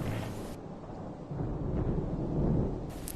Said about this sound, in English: followed by silence and the sound of distant rolling thunder